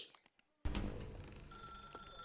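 A telephone starts ringing abruptly in The Stanley Parable video game, a loud sustained electronic bell tone that cuts in after a few faint ticks and continues unbroken.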